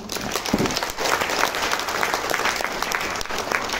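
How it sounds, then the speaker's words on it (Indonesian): A crowd at an Atomy product presentation in Jakarta applauds the Hemohim supplement, giving loud, dense clapping from many hands that holds steady for several seconds after a voice briefly trails off. "Tepuk tangan untuk hemohim"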